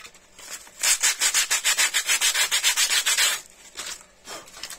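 Sandpaper rubbed by hand over the knees of a 3D-printed figure: a close, fast run of rhythmic scratchy strokes that start after a quieter moment and stop abruptly, followed by a few softer rubs.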